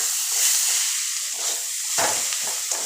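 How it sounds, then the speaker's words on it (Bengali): Gram flour (besan) fries in a hot wok while being stirred, giving a steady, close hiss and sizzle with a few scraping stir strokes. "ভালো করে নাড়তে হবে"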